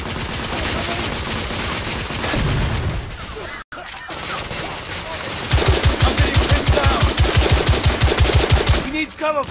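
Gunfire in The Order: 1886 during a lobby firefight with guards, with heavy bursts of rapid automatic fire, a short gap, then a loud, fast, even string of shots close by, with shouted voices mixed in.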